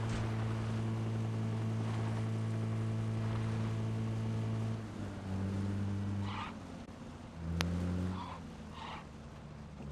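Motorcycle engine in PUBG: Battlegrounds droning steadily at a constant pitch, then shifting gears and fading slightly as it rides past, loud and alone with no talking.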